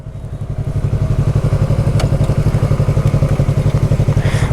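A large, heavy Suzuki GSX motorcycle engine runs with a loud, close, rhythmic pulsing beat that holds steady throughout, with no talking.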